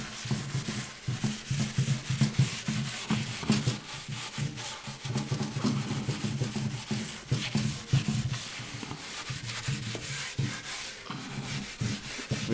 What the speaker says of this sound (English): I'm just going to scrub it one more time.